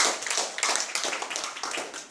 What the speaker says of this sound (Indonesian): Tepuk tangan buat Gamat Emulsion.